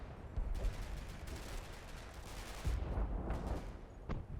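Sten submachine gun fire in the Combat Mission: Battle for Normandy war game, faint, distant rattling bursts repeating over a low rumbling battlefield backdrop.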